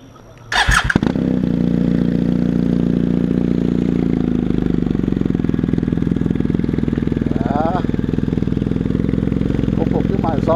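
A BMW GS1250 motorcycle fitted with a Dominator Racing GP1 exhaust cranks and fires up after a brief clatter, then settles into a loud, steady, throaty idle that holds close by, with a voice talking over it.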